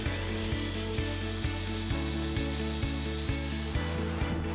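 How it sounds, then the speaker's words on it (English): A power drill with a 3/16 bit whirs steadily up close, boring through a broken manifold bolt on a GM V8 engine, its pitch dipping in regular pulses roughly every half second. "drill all the way through the bolt with a 3/16 drill bit"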